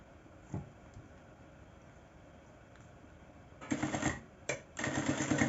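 A sewing machine with a zipper foot stitches a zipper onto a fabric bag, running in two short, quiet mechanical bursts after a near-silent pause.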